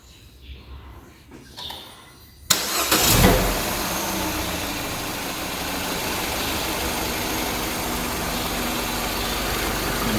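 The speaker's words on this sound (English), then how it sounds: "Now I'm going to start the engine" A Peugeot 207 engine cranks and catches after an engine change, then settles into a steady, even idle that continues for several seconds, close and moderately loud with no talk.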